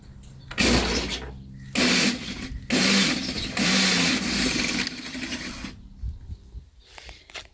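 An electric Craftsman lawn mower motor blipped in short bursts, several loud whirring surges starting and stopping in an uneven rhythm, close by, with quieter gaps between.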